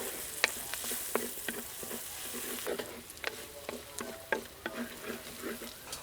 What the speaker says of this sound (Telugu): అదే నూనెలో ఇప్పుడు ఉల్లిపాయలు వేసి కొంచెం మెత్తబడే వరకు వేయించుకుందాం ఉల్లిపాయలు ఇలా వేగుతున్నప్పుడే పచ్చిమిరపకాయలు కరివేపాకు కూడా వేసి కలుపుకుందాం